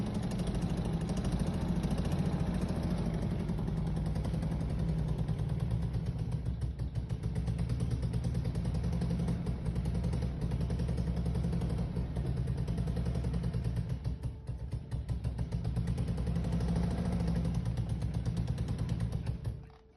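A BMW E30 316i engine misfiring and not running on all cylinders idles for the whole stretch, close and loud, with an uneven, lumpy, clattering rhythm that stays steady and cuts off at the end.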